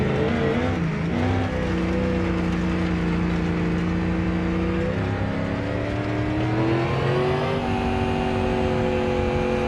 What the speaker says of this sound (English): I love the way this this truck sounds.